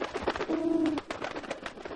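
Cartoon pigeons give a short, clear cooing call, a low throaty warble that swells briefly and fades, heard near and alone without voices.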